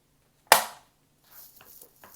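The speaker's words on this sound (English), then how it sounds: "that was my chair" A chair makes one sharp, loud crack like a snap or knock, followed after a pause by faint scattered rustles and creaks.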